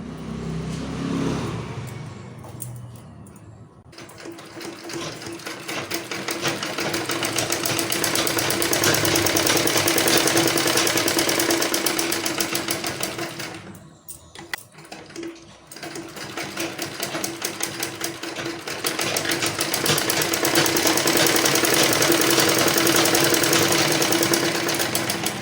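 A sewing machine runs fast and loud, stitching tucks on an embroidered blouse, its rapid rattle holding for long stretches with two brief pauses.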